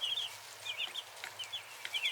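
Soft, repeated clucking from hens and chicks scratching in straw, short high calls scattered throughout over a quiet background.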